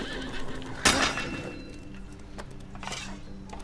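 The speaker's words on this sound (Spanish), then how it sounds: "Más caballos, más soldados." In the video game Apotheon, a horse whinnies sharply once, followed by clip-clopping hooves and faint clattering, all fairly quiet against low ambient game sound.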